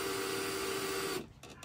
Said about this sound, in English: I decided to grab my drill and see if I can drill that screw out.